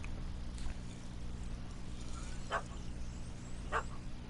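Two short dog barks from The Witcher 3 game ring out a second apart over a steady low ambient hum, moderately close and fairly quiet.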